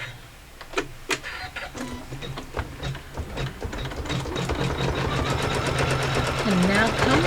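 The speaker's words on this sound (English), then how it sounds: "can now come through and do those quilting stitches" A sewing machine runs quilting stitches on a block-of-the-month quilt block, first in short ticking bursts, then settling into a steady, fast, close mechanical whir.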